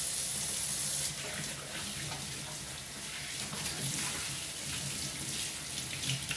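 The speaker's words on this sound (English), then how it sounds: "So, let's finish doing these dishes." A kitchen tap runs steadily while dishes are washed, making a soft continuous splash and hiss of water with faint clinks and shifts in the flow.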